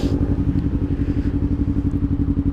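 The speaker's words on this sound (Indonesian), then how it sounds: "Ini tuh knalpotnya hampir mirip seperti Nasr Beat yang harganya berjuta-juta." A motorcycle fitted with an aftermarket slip-on DX Generation Sphere Oval exhaust runs steadily nearby, giving a loud, deep, throbbing pulse with a rapid, even rhythm.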